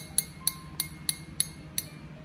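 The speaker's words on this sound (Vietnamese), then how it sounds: "cái tiếng chuông nó hay lắm" A Shimano fishing reel's clicker bell ticks six times in an even, unhurried rhythm, each bright metallic click standing out over a quiet background.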